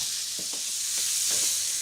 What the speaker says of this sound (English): it really smells like breakfast time when you're frying bacon